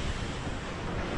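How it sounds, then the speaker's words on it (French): Strong storm wind roars across the microphone aboard the sailing boat Geronimo, with waves breaking around the hull in a dense, continuous wash of noise that stays loud throughout. "Le vent qui saoule, qui fouette le visage"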